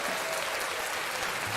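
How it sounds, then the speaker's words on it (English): Audience applause at a live folk music performance, a dense, steady burst of many hands clapping at close range, filling the whole short stretch without a break. "I'll give myself a round of applause."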